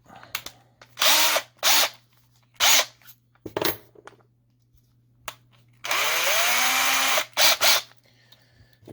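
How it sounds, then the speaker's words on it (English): A power drill fitted with a tiny bit whirs in short bursts on a small die-cast Matchbox Vauxhall Victor Estate model car, one longer run among several quick pulses, close and loud over a low hum. "you want to put your bit as far in the drill as you can so you don't snap it"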